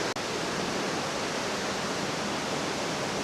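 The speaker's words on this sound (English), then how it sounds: "There's a cool little tiny waterfall right there." A small waterfall pours in a steady, even rush of splashing water, close and continuous throughout.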